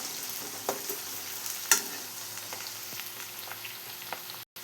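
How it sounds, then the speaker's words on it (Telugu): Tempering with curry leaves fries in oil with a constant soft sizzle and a few sharp crackles and pops, one louder snap standing out, faint and steady throughout. "ఇప్పుడు ఇవి వేగుతున్నాయి కదా, కరివేపాకు కూడా వేసుకుందామండి."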